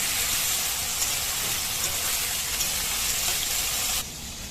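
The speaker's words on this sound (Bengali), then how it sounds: "কড়াইতে তেজপাতা, শুকনো লঙ্কা, জিরা ফোড়ন দিয়ে সবজিগুলো দিয়ে দিলাম, দিয়ে একটু নাড়াচাড়া করলাম" Vegetables frying in a wok tempered with bay leaf, dry chilli and cumin, giving a loud, continuous close-up sizzle that drops off slightly at the end, with no talking.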